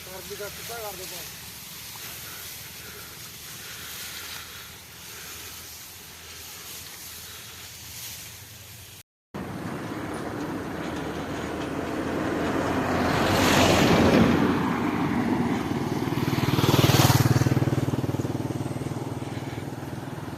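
An engine-driven spray pump drones in a paddy field of 126-variety rice suffering from yellow rust, a steady outdoor roar mixed with wind that cuts out briefly, then swells louder in two waves.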